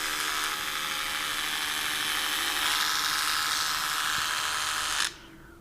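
A Braun epilator fitted with its shaver head buzzes with a steady, high-pitched electric whirr for about five seconds, close and loud, and then is switched off.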